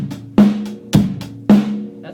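A basic drum-kit beat with hi-hat, bass drum and snare: three strong, evenly spaced hits with lighter ticks between them, close and punchy, and no talking.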